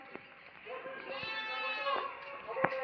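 Goats bleat several times in a noisy outdoor setting near a bus, with voices and background chatter running underneath the calls.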